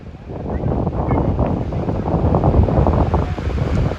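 Strong wind buffets the microphone at the seashore in Dwarka, a loud continuous low roar with gusts, mixed with the wash of waves, with no talking.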